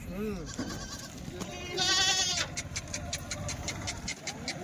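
Kathiyawadi goats on a farm bleat in a few wavering, close calls, one longer and louder in the middle, while people talk nearby throughout.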